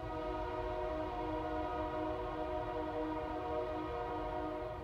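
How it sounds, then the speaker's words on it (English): A train horn sounds continuously, a layered steady tone, sustained and moderately distant with no break throughout and no talk. "A couple more honks, we'll be over."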